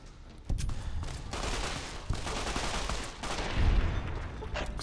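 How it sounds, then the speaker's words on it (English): Submachine gun fire in the video game Fallout: New Vegas: dense, continuous bursts of rapid shots blur into a sustained rattling barrage lasting several seconds, loud and close. "What we got? Submachine gun."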